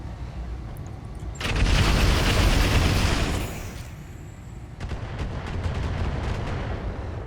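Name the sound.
mech weapons firing at a Flea in BattleTech video game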